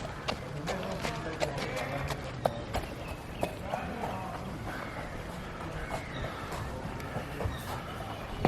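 Horse hooves clip-clopping on a road trip through the Kolli Hills, an irregular, moderately close patter of hoofbeats over a busy background of rustle and murmur.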